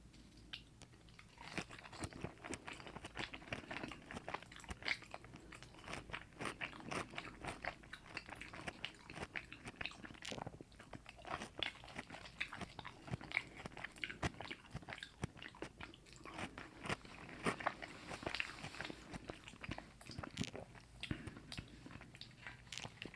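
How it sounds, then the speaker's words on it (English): Crispy homemade french fries are bitten and chewed close to the mic, with steady crunching and soft wet mastication running continuously and no talking. "let's see how these fries taste."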